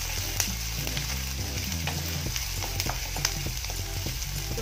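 Chopped onions and green chillies fry in a pan with a steady, dense sizzle and crackle, close and loud, with occasional clinks and scrapes of a spoon stirring, and no voices.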